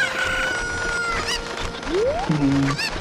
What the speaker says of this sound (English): Just taking that chicken up after.